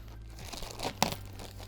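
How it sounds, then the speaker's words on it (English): Scissors snipping through the plastic bags around a boxed mattress, close, crinkly plastic rustling with soft cuts and one sharp crackle near the end, no talking. "when you are snipping these bags to not pierce the actual mattress itself"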